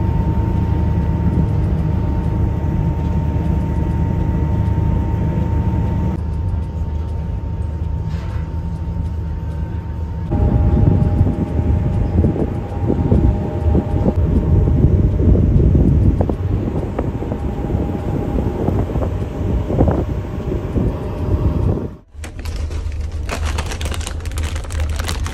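Steady wind buffeting the microphone with a low engine rumble on a ferry crossing to Koh Samui, Thailand, loud and continuous with a brief dropout near the end.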